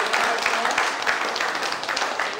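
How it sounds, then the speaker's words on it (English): A studio audience on a television talk show claps, a brief burst of scattered applause at moderate level. "Come on, clap your hands together."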